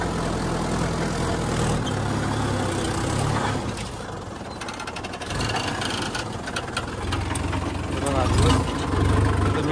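A Farmtrac or Mahindra Yuvo tractor engine runs in gear with a steady, mid-pitched diesel rumble that dips briefly midway and swells again, with faint voices in the background.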